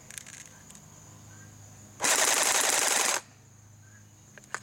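An ARES H&K G36C electric blowback airsoft gun fires a single rapid full-auto burst of about a second, a dense loud buzzing rattle standing alone amid quiet room noise and a few light clicks.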